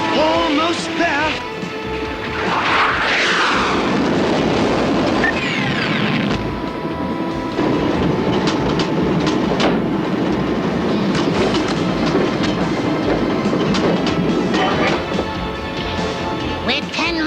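A train running through mountain country with the engine throttle jammed, heading toward a power plant: steady loud rumble and rattling throughout, with metallic screeches and clatter layered over it and voices speaking intermittently.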